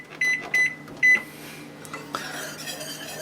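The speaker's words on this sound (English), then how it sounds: "So we'll set a timer." A kitchen timer is set during homemade chocolate ice cream making: three short electronic beeps, followed by a longer tone and the low hum of an appliance running.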